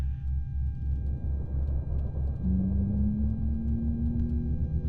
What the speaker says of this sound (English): starting our engines.